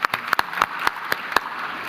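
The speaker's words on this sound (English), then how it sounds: "Yeah, round of applause." A small forum audience gives a round of applause, with a handful of sharp, separate claps spaced irregularly rather than a dense ovation, fairly close.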